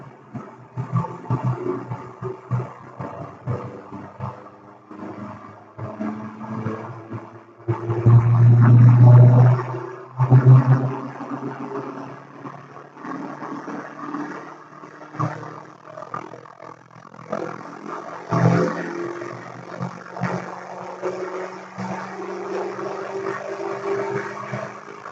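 A 1.8T AGU turbocharged car engine pulling under load in fourth gear on a dyno, giving a steady, loud droning roar with a surge partway through and then a sustained heavy hum, with no speech.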